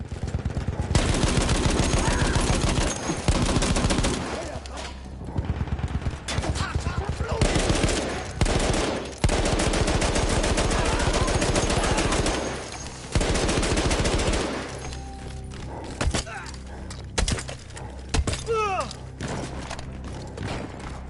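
Battlefield 1 combat with dense, loud bursts of gunfire and machine-gun fire, rapid repeated shots layered with thuds and explosions, thinning out toward the end into scattered sounds and a faint voice.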